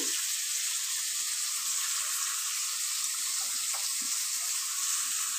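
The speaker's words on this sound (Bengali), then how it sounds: "এবার সব একসঙ্গে আমি ভালো করে ভাজবো ওগুলোকে।" Cauliflower, potatoes and garlic frying in a pan with a pinch of salt, a steady bright sizzling hiss that runs evenly and close for the whole stretch with a few faint clinks underneath.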